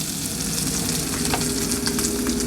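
Dry-canned potatoes fry in a pan with a steady, close, loud crackling sizzle throughout and no voices.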